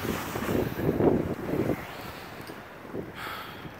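Gusty wind buffets the microphone outdoors, rushing loudly at first and then easing to a softer steady blow.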